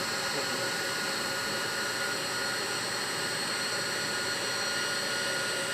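A Siemens variable frequency drive runs an electric motor near its full-scale 1800 RPM, giving a steady, continuous whirring hum with a high-pitched tonal whine, unchanging and alone throughout.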